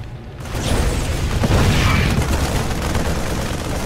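Sniper gunfire from the video game StarCraft 2: a dense, loud burst of rapid booming shots layered over in-game battle noise, sustained for several seconds with no pauses.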